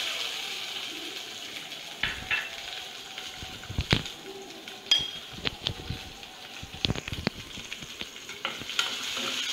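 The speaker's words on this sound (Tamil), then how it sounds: "ஸோ இந்த ஸ்டேஜில் நம்ம வந்து வெங்காயம் போட போகிறோம்." Onions hit hot oil with popped mustard seeds and urad dal for a quick everyday chutney, giving a steady close sizzle broken by sharp scraping stirs and clinks of a spoon against the pan.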